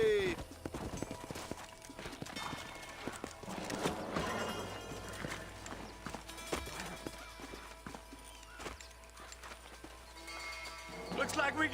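Horses' hooves clip-clop in Red Dead Redemption, a steady rhythmic trotting heard under game music and effects, with voices talking over it and a brief whinny.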